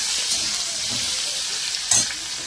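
Mixed vegetables, carrot, capsicum, beans, potato and green chilli, frying in a pan alongside dried fish, giving a steady close sizzle with brief stirring scrapes.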